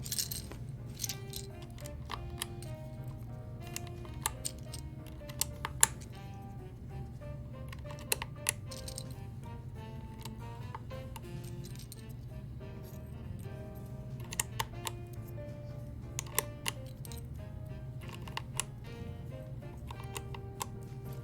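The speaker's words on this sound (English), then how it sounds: "now to put the keycaps on" Keycaps being pressed onto a mechanical keyboard, giving faint scattered clicks and light plastic taps at an irregular pace over a steady low background hum.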